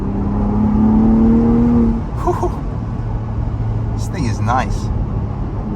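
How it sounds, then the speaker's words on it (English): A 2023 Ford Bronco Raptor's engine drones loudly through the cabin with a rising rev near the start, then quick blips from rev-matched downshifts, while a voice talks briefly over it. "Rev match downshifts."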